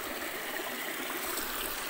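Creek stream flowing steadily along a forest route near Kdz. Ereğli, a soft continuous rushing and trickling wash of water, fairly faint and without voices.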